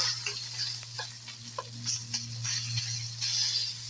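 Chopped banana stem pieces fry in oil with coriander and turmeric powder, giving a steady soft sizzle with scattered light ticks and stirring clatters under a constant low hum.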